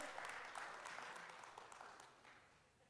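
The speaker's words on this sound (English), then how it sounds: "Give our brother a round of applause, amen?" A church congregation applauds a guest, a fairly faint, distant patter of many hands clapping that slowly fades over a few seconds.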